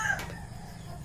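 A rooster crows once, faint and distant, in the early morning around six, and the call fades quickly into quiet background hum.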